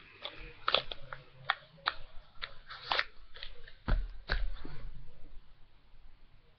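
Sweets that are not real chewing gum being chewed close up, with irregular crunchy clicks and squishy bites in an uneven rhythm, with no talking.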